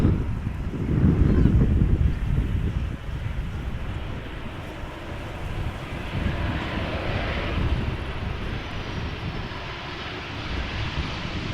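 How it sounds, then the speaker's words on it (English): A KLM Boeing 737-800's engines roar loudly as it arrives at Amsterdam Schiphol Airport, then fade to a steady rush, mixed with wind buffeting the microphone. "The next airplane is a Boeing 737-800 from KLM, arriving from Split."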